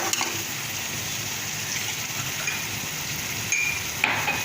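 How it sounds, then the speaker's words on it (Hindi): Two glasses of water are poured into moong and masoor lentils in a cooking pot, giving a steady, close rushing splash that runs continuously, with a brief clink near the end. "अब हम इसमें 2 गिलास पानी डालेंगे।"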